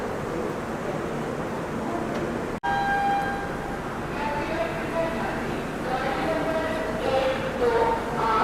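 The Sanghamitra Express pulls out of SMVT Bengaluru station with a continuous rail rumble and tonal horn-like notes in the second half, while a voice talks over it.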